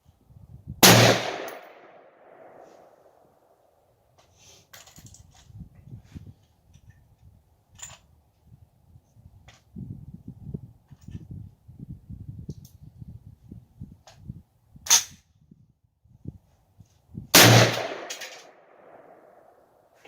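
AR-15 rifle firing 50-grain V-Max rounds at an outdoor range, heard as three loud, sharp single shots spaced several seconds apart, with quiet shuffling and handling noises in between.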